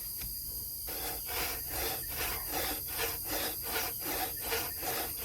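A hand saw cuts through wood in steady, even back-and-forth strokes, close and loud, with a short pause before the rhythmic rasping starts and runs on without talk.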